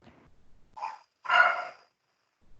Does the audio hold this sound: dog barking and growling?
yes